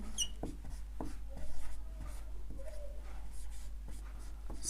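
Marker or chalk strokes writing out a pair of equations on a classroom board, a steady run of short scratchy strokes close by with brief pauses, no talk.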